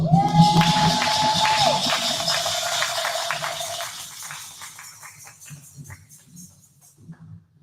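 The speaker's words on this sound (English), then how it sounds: "So I'm going to please give a round of applause" Audience applause at a Kwanzaa event, a burst of clapping with a tonal whistle or hum over the first two seconds, then thinning to scattered claps that fade out over several seconds.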